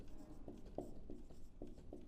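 A pen or chalk writes out equations by hand, making soft, faint, scratchy strokes that come in short taps and bursts at an uneven rhythm.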